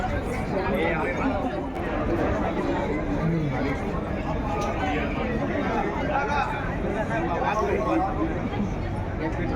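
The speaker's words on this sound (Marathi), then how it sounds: "साई भक्तांची इथे भरपूर गर्दी झालेली आहे" Large crowd of Sai devotees gathered in Shirdi for a Ram Navami palanquin procession, a dense, continuous babble of many voices chattering close by and all around without pause.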